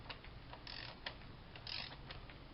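A ratchet wrench tightens the oil filter housing bolts on a 2014 Dodge Avenger, giving faint quick clicking runs and short metallic creaks close by.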